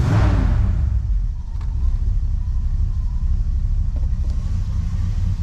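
A cold car engine with a TH400 automatic transmission idles roughly after being shifted through the gears, a loud steady low rumble close by, slightly louder at the start, with no talking.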